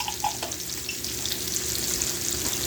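Sliced pork loin sizzles steadily in a pan with minced garlic, a close, continuous crackling hiss that holds at an even level throughout with a few faint clinks early on.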